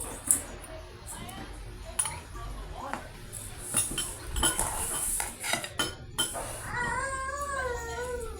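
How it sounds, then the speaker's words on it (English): Butter and sugar are creamed in a mixing bowl for cinnamon cookies, with a spoon clinking and scraping against the bowl in irregular close bursts, and a voice is heard briefly near the end. "in a mixing bowl, cream together butter and sugar until light and fluffy"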